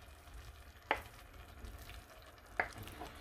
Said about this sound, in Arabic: دابا ملي تشحرات ليا البصله كنضيف داك اللحم داك التقطيعات